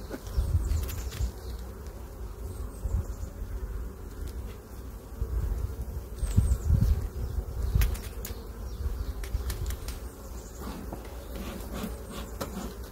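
Honey bees drone in a steady, close buzz around an opened beehive during an inspection, the hum holding throughout with small swells and nearby handling noises.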